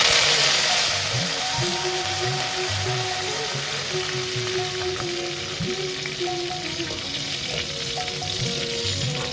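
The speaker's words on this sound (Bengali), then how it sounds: "এবার ওই একই কড়াইয়ে সামান্য আর একটু তেল ঢেলে গরম মশলা আর কারি পাতা দিল।" Garam masala and curry leaves sizzle in hot oil in a wok for a Bengali-style chirer polao (poha). The frying hiss is loud and steady, close up and alone, running the whole time.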